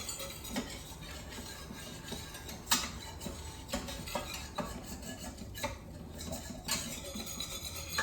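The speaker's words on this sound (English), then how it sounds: "So you're really just whisking to combine and get any lumps of flour out." A flour roux is whisked in a wide-bottomed pan, with soft scraping strokes and occasional sharp metallic taps against the pan, quiet and unaccompanied by talk.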